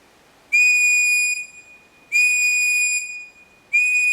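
Three long, loud blasts from an OEX survival whistle blown outdoors, each a shrill steady tone lasting about a second with brief gaps between, close to the listener and with no voices.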